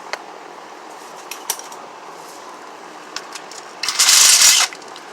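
A bolt is loosened on the oil pan of a 2009 Honda Accord V6: scattered metallic clicks and taps lead into a loud, half-second burst of rapid mechanical ratcheting near the end.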